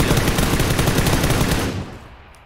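Loud, close sniper rifle fire in PUBG, a thick burst of repeated shots that fills the clip before tailing off into a fading echo.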